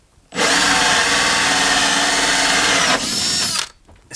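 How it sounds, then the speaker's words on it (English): A power drill with a hole saw runs at full speed in a loud, steady whine for about three seconds, shifts pitch briefly, then stops. "So all we have to do is drill a round hole."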